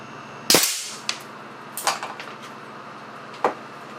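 A high-pressure air cannon fires a single sharp, loud blast at a steel bathroom sink, followed by a trailing hiss and several smaller metallic knocks and clatters as the round ricochets.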